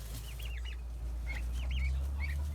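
Short chirpy calls from young chickens, a few in a row, over a steady low hum; a homestead farmyard sound close by with no talking.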